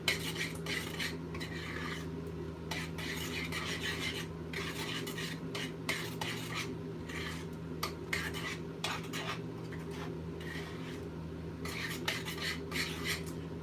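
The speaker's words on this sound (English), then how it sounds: "I'm stirring my peaches." A utensil stirs peaches in a borrowed pan to make jam, with repeated close scraping and rubbing strokes against the metal in an uneven rhythm over a low steady hum, no talking.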